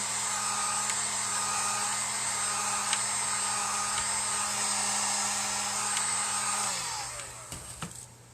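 A hair dryer blows steadily and loudly while drying paint on a pumpkin, a continuous close whoosh with a low hum that runs for most of the stretch, then switches off and spins down near the end, leaving a few small handling noises.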